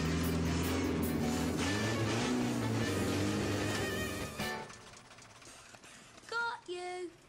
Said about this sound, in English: It revved its engine.